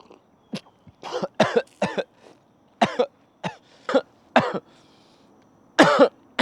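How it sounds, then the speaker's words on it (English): A person coughs repeatedly after choking on tea, harsh bursts coming in quick clusters with brief pauses, some throat clearing, close and fairly loud with no speech. "choked on my motherfucking tea"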